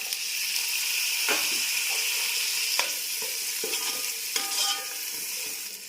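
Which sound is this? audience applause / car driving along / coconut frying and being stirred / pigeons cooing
coconut frying and being stirred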